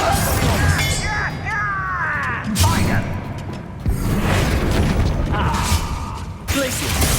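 Confringo spell blasts in the video game Hogwarts Legacy land as booming bursts and whooshes amid combat clatter, loud and close. Spoken dialogue runs over the action.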